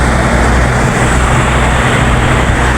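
Highway traffic roars past in a continuous loud wash of tire and engine noise, close and unbroken.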